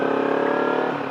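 Kawasaki Ninja 300 motorcycle engine while riding, a steady close droning hum with a faint rhythmic pulse and no break, heard alone.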